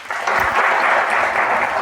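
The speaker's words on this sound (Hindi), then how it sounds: "तो चलिए जोरदार तालियों के साथ स्वागत करते हैं" An audience applauds to welcome a guest, with dense, steady clapping close by that lasts the whole short stretch.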